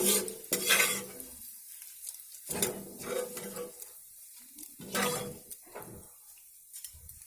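Flattened rice (chuda) fries in a pan, stirred in rhythmic, loud strokes: each sweep brings a burst of crackling sizzle and scraping, separated by brief quieter gaps, with no talking.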